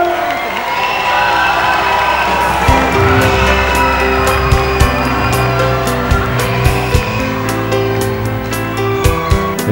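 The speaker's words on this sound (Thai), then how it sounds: "ขอเสียงปรบมือเป็นกำลังใจให้กับน้องแนนครับ" Studio audience at a Thai televised singing competition cheering and clapping for a female contestant, a loud, dense crowd roar with sharp claps and shouts sustained throughout.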